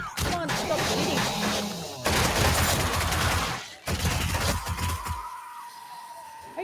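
Rapid enemy gunfire in the survival game 7 Days to Die, loud, dense volleys of shots close by, continuing in bursts for several seconds before tapering off.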